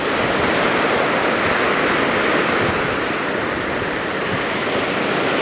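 Sea waves washing onto Hwajinpo beach on the East Sea at Goseong, Gangwon: a steady, loud wash of surf that fills the whole stretch without pause, with no voices.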